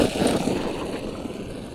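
ARRMA Kraton 4S RC car running at full throttle, a loud, continuous rushing whine of motor and tires that fades slightly as it moves away.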